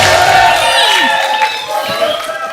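A studio audience on a Hindi TV comedy talk show cheers and applauds loudly and steadily, with whoops and whistles rising over a dense wash of clapping, as a guest is welcomed.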